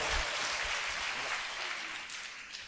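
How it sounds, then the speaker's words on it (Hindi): A church congregation claps to thank God at a Sunday Holy Communion service, a brief burst of dense, steady applause filling the room and fading slightly at the end. "ताली बजाकर परमेश्वर को धन्यवाद"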